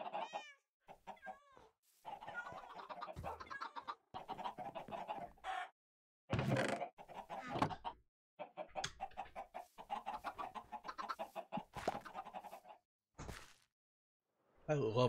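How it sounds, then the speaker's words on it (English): Minecraft video game chickens being killed, a series of short clucking and squawking bursts in quick, uneven succession, fairly close and clear, with brief silent gaps between them. "Love the sound of chickens dying in the morning."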